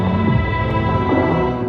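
Opening of a track: a sustained layered blend of cello, vocal pad, violin and sub bass, dense and steady at full level with no break, drums barely apparent.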